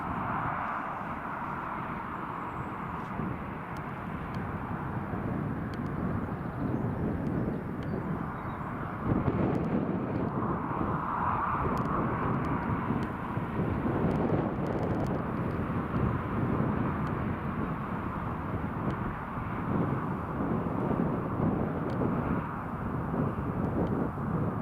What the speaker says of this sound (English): We've got an A4 Skyhawk and a Learjet going over.